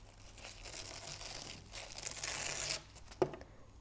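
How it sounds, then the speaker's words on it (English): Tear-away stabiliser is ripped off fabric after topstitching, a rough, papery tearing and crinkling that builds over a couple of seconds, close and fairly loud, ending with a sharp snap. "And then all you do is you just tear it away afterwards."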